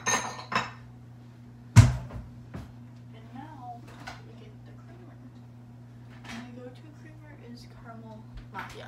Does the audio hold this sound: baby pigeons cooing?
no